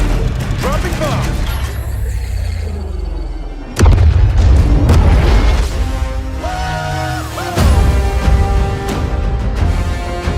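A bomb dropped in a PlayStation video game bursts in two heavy booming explosions with rumbling tails, loud and close, layered over a game soundtrack and voices.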